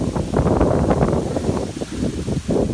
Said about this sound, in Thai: ลมแรงมากเลย